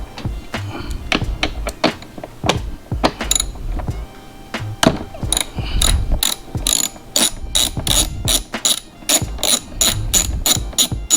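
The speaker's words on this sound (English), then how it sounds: "So I'm gonna use a 13mm socket with an extension." A ratchet fitted with a 13mm socket and extension tightens a terminal on a BMW battery, with rapid clicking bursts of varying length and a few dull clunks in between, loud and close, with no talk.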